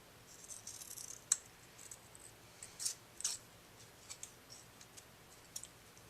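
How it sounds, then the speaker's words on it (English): Light, crisp snips and rustles sound close by, with a few sharper clicks of scissor blades cutting paper in irregular bursts, no talking. "I have glue on my scissors and it's creating havoc"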